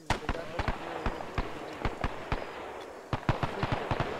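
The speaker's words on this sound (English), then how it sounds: "There's explosions." Repeated sharp blasts and bangs from explosions in a multiplayer video game, irregularly spaced and fairly loud, with players talking over the action.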